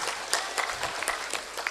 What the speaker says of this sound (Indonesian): Tolong tepuk tangan.